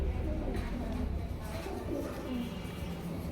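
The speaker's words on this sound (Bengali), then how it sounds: "সিলভার কবুতর নিয়ে আসলাম আপনাদের জন্য" Silver pigeons cooing in short low rolling calls, close and fairly quiet, over a dull background rumble.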